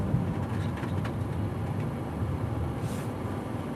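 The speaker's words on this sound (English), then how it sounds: "Hemi engine, that sounds nice, Walter." A Hemi engine idles with a steady, dense low rumble, fairly loud and unbroken for the whole few seconds, with no voices over it.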